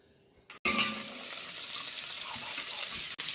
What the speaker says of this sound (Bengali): এগুলো আমি আগে ঘিয়ে ভেজে নিই